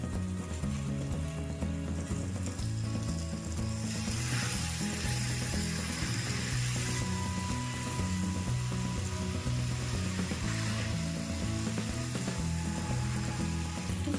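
Fried cauliflower and potatoes sizzle in a pan for a Bengali curry, a constant crackling hiss over a steady low rumbling hum, loud and unbroken from start to finish.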